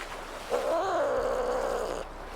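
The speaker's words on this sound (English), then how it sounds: "Kitty cat." A single drawn-out cat meow from the video game Nancy Drew: Sea of Darkness, fairly loud and close, with a rising then falling pitch lasting about a second and a half.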